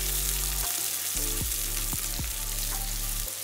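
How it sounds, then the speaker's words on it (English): Garlic and white onions fry over medium heat in a pan, making a steady close sizzling hiss with a few soft pops and light stirring bumps. "Let's just fry it in a medium heat."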